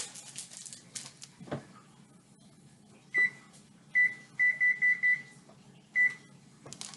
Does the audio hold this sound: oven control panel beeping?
yes